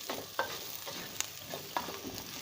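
Garlic and vegetables fry in a pan for a Chicken Manchurian, with a steady close sizzle broken by a few sharp scrapes and knocks as a spoon stirs them.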